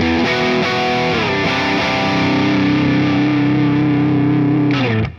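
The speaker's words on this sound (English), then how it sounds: "these two models of a Marshall style amp do sound different" Distorted electric guitar through Marshall-style amp models on a Boss GT-1000 and a Neural DSP Quad Cortex, played as a few picked notes and then a loud sustained chord that rings out before cutting off.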